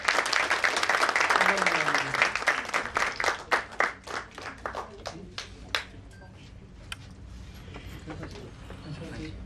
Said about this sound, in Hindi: तालियों में थोड़ी सी कमी लगी मुझे।